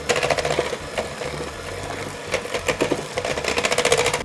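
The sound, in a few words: electric mixer creaming eggs and vanilla into batter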